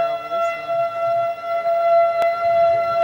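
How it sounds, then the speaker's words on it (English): A steady, wailing tornado warning siren drones continuously in the distance, a sustained tone with a brief click partway through. "Well, our sirens work anyway."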